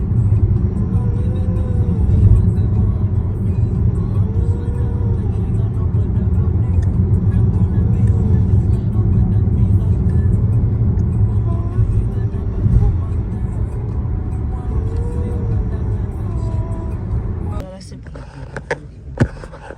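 Inside a moving car, a steady engine and road rumble continues, loud and close, for most of the stretch. It quietens near the end as a door or other handling noise breaks in.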